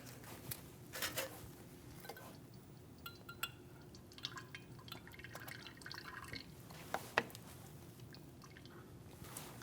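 Old brake fluid trickling and dripping into a bottle from a front brake caliper on a 2010-2015 BMW X1 xDrive as the piston is pushed back, faint irregular drips and small clicks over a low hum.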